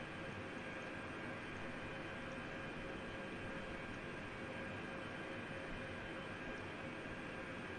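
A huge aircraft's engines in a flight simulator game roar steadily on takeoff, a constant dense drone with a faint whine above it, unbroken and without talk.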